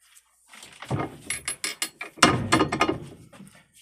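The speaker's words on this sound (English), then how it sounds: "I'll pull down my ratcheting handle and get some pressure on it to hold it." Ratcheting handle on a homemade black powder rocket tooling rig, pulled down and twisted to release the motor from wax, a close series of sharp clicks and creaking mechanical ratchet strokes in two bursts, no talking.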